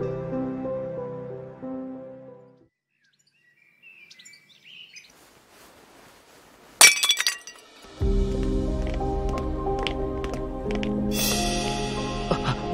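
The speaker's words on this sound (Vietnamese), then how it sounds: "Mày đã làm vỡ cái bình quý nhất của tao sao?" A precious vase breaks in an animated cartoon: a sudden loud crash followed by scattered clinking and tinkling, set between stretches of bright cartoon music and chirps.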